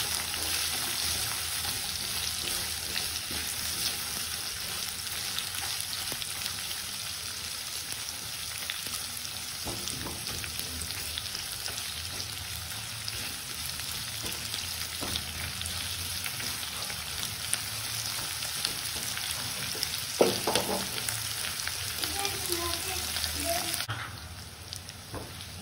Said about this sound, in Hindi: ये प्याज भी मैं डाल दूंगी। और इनको अच्छा भून लेंगे हम अभी।